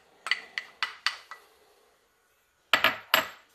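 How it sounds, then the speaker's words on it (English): A utensil knocks and scrapes against a bowl while melted butter is stirred into graham cracker crumbs for a cheesecake crust, making a run of sharp clinks, a pause, then three more firm taps. "We're going to go ahead and mix this in with our graham crackers."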